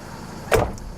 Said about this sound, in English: the doors close pretty well